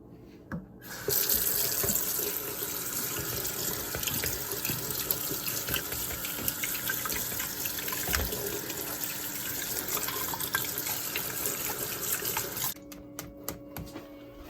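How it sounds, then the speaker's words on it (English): Kitchen tap running over canned beans being rinsed for chili, a steady close gush of water lasting most of the stretch before cutting off, with a few faint clunks at the end and no talking. "So what you do, you dump and then you rinse."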